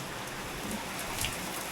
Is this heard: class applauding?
no